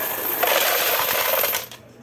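A coin counter with a sorter runs in sorter mode, a dense continuous jingle of coins rattling through the mechanism, loud and steady for about a second and a half before it stops abruptly.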